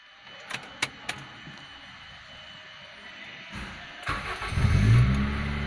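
A 2003 Honda Civic 1.7 automatic starts up after a few faint clicks: the starter cranks briefly, then the engine catches and settles into a loud, close, steady rumble.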